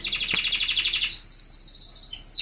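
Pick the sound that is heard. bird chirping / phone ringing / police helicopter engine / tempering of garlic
bird chirping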